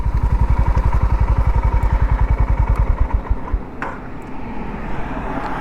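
A Honda H'ness 350 motorcycle engine thumps at a steady, rapid idle close by, then the pulses fade out after a few seconds, leaving faint road noise.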